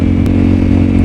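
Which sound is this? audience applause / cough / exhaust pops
exhaust pops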